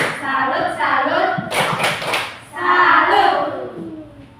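Children in a primary school classroom perform the tepuk salut clapping chant, rhythmic bursts of hand claps mixed with their chanting voices, loud and close.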